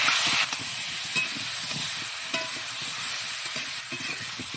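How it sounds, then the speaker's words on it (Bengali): Mango pieces frying in a pan with turmeric and salt, a steady broadband sizzle with light scattered stirring knocks, continuous and fairly close. "হলুদ লবণ দিয়ে দিয়েছি, এবার সুন্দর করে ভেজে নেব"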